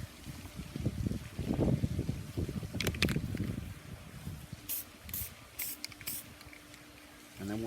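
Steel-It stainless steel coating sprayed from an aerosol can onto an underside, heard as hissing bursts under wind-like rustle with a few short sharp clicks and pauses between passes.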